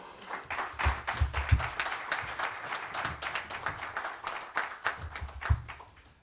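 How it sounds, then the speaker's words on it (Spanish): Audience applause greets an author at a book presentation, a close, uneven burst of clapping from a modest crowd that swells and wavers over several seconds before tapering off. "Y ahora sí que les pido un fuerte aplauso para él"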